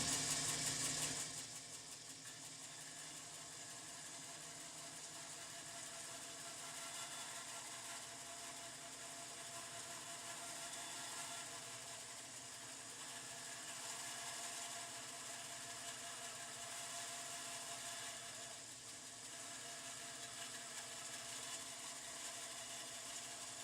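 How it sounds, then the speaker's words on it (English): A bandsaw cuts a Telecaster Thinline guitar neck taped to a backer board, giving a steady, continuous mechanical whine and hum. It starts louder for a moment, then holds an even level throughout with no voices. "Now after I've run it through a bandsaw"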